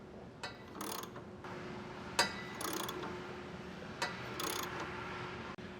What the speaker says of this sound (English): I highly recommend using a hand ratchet so you can really feel what's going on.